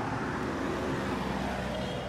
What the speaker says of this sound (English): this traffic is not ending